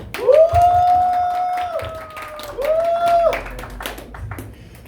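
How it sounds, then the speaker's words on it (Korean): Applause from a high school youth congregation at an in-person church worship service, a steady run of clapping with a couple of sustained vocal whoops rising over it. "박수."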